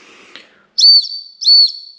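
A Tesla Cyberwhistle, a stainless steel whistle, is blown in two loud, steady, high-pitched blasts of about a second each, close by and with no talk over them.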